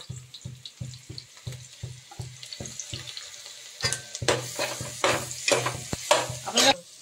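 Ginger-garlic paste goes into a pan of frying onions for chicken curry, bringing a run of rhythmic stirring taps that swells into a louder, brighter sizzle as the paste hits the hot oil.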